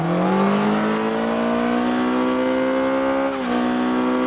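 A Honda-style VTEC engine in the Car Parking Multiplayer video game revs hard and climbs steadily in pitch, a loud continuous synthetic roar that dips briefly near the end before picking up again.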